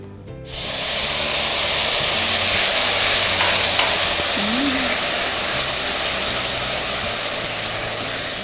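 White wine poured into sizzling risotto rice already coated in olive oil, garlic and onion, a loud steady hiss that flares up and holds for several seconds, with a brief voice in the background.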